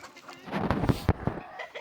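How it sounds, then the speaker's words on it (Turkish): A rooster in a backyard chicken coop gives a short, close vocal call, a few rough bursts over under two seconds with faint background noise. "Şu horozumuz öttü."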